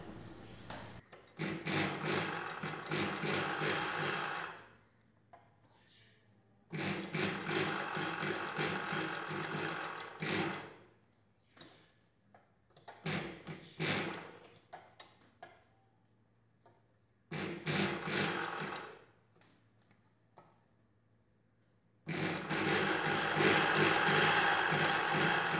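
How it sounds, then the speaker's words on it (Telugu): Sewing machine stitching blouse cloth, close and loud, running in several long bursts of rapid mechanical chatter separated by quiet pauses with faint handling noises. "ఇలా క్లాత్ను తిరగేసుకొని పైవైపున ఒక కుట్టు వేసుకోవాలి."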